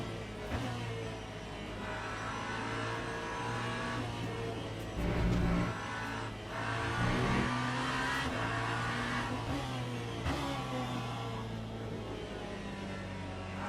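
A race car engine in the racing game Le Mans Ultimate at the Barcelona circuit hums and revs steadily, with rising and falling pitch as it accelerates through high-speed turns, loud and close with no talking.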